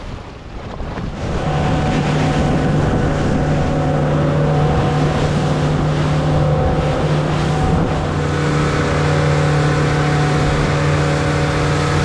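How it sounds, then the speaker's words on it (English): A boat engine on a Key West to Dry Tortugas crossing starts and settles into a steady, loud droning hum with a strong low tone, mixed with heavy wind buffeting and rushing water. "So getting the boat started now"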